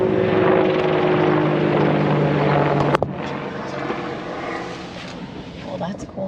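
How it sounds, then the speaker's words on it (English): A military helicopter flies overhead, its rotor and engine making a loud, steady throbbing roar that holds for several seconds before a brief knock and a slightly lighter drone, with talk mixed in. "There's another military helicopter."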